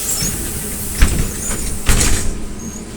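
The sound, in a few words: trolleybus AKSM-321 doors closing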